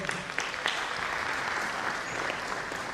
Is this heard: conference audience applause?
yes